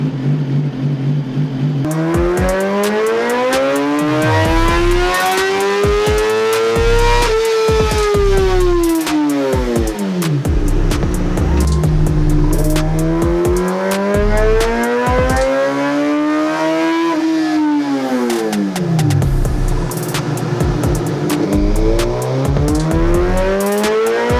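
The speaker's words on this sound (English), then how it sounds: "we just got done running the GSXR1000 on the dyno" A 2018 Suzuki GSX-R1000 sportbike engine revs hard on a dyno, loud and close, rising and falling through repeated sweeping pulls with a high, rasping exhaust note and no talking.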